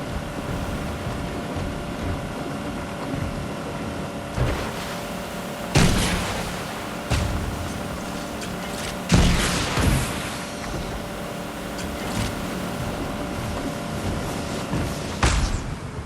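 Gunfire from the video game Fortnite: a few sharp, loud bursts of shots around six, nine and fifteen seconds stand out over a steady droning game background, with no talk.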